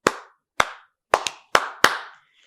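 Hand clapping on a talk show: five close, sharp claps at an uneven pace, one a quick double, with no speech.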